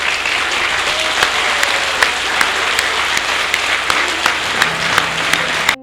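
A standing audience at a formal ceremony in Mali gives sustained, loud applause for the president, dense continuous clapping with scattered sharper claps throughout, cutting off abruptly at the end.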